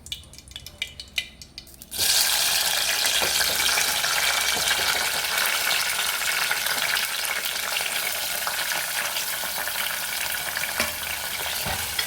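Tomatoes hit hot oil that held slit green chillies, and after a quiet start a loud, sudden sizzle bursts up and keeps going with occasional stirring clinks, no speech.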